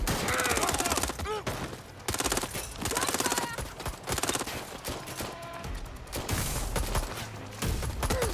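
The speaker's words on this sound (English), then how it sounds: "Getting shot at here! They're shooting at us!" Rapid bursts of automatic gunfire from a firefight in the video game Watch Dogs Legion, loud and close, with dense volleys separated by brief pauses over about eight seconds and no voices on top.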